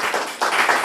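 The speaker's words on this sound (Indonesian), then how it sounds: "teman sekelas boleh tepuk tangan dulu dong untuk Yako." A class of students claps together, a brief, close burst of steady hand claps with no talking.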